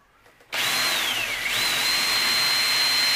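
A drill with a hole saw cuts through two layers of a metal ammo box, starting abruptly and then holding a loud, close, steady grinding whine whose pitch sags and recovers, with no talk.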